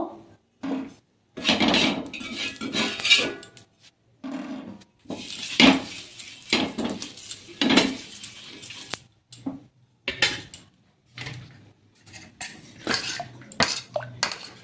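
A ladle stirs a milk mixture for tawa pitha in a metal pot, producing loud, irregular bursts of scraping and clanking against the sides, separated by short pauses.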